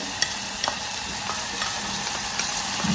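Chopped green onions and green pepper sautéing in a pan, a steady close sizzle broken by a few sharp ticks and spoon scrapes, continuous and fairly loud, nobody speaking.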